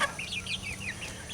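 Chickens in a coop give soft, rapid clucks and chirps, a quick run of small calls at moderate distance over a quiet low background.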